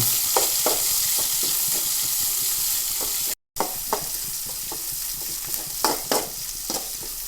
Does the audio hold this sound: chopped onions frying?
yes